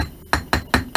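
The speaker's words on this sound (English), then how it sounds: "gently give it a tap. Why? Because this kind of loosens up any loose glass beads that might be around." Four sharp metallic taps against a Dellorto DRLA 40 carburettor body after glass bead blasting, evenly spaced and close, each a brief bright knock with a short ring.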